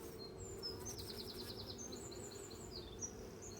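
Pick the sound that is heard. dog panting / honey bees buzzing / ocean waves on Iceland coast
honey bees buzzing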